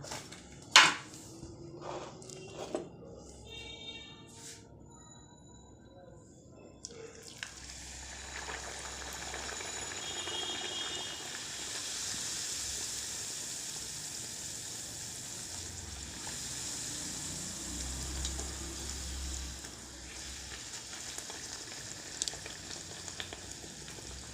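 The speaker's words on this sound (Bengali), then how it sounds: "কড়াতে ঘি বসিয়ে দিয়েছি গরম হতে" Pea-stuffed kachori frying in hot ghee in a wok: a few sharp clicks and knocks come first, then a soft, steady sizzle rises and bubbles on, fairly faint, with no talking.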